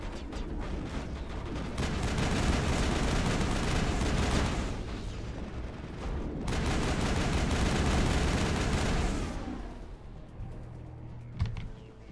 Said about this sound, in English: Are they still shooting at me?